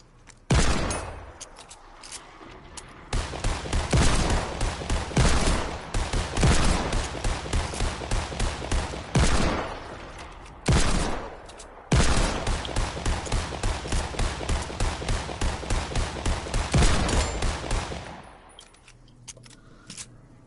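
Rapid bursts of turret gunfire in a video game, loud and sustained in long rattling volleys with brief gaps between them, then fading out near the end.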